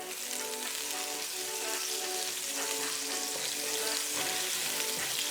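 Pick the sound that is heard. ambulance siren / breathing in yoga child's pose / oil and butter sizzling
oil and butter sizzling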